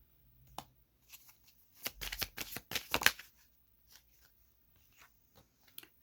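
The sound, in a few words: tarot cards being shuffled and falling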